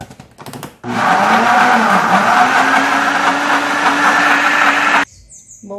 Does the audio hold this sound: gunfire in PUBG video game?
no